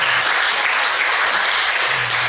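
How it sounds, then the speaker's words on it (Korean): A church congregation at a Sunday morning service marking the church's 15th anniversary bursts into dense, loud, continuous applause that fills the whole moment, with no talking over it. "감사한 마음으로 감사의 박수 부탁드리겠습니다."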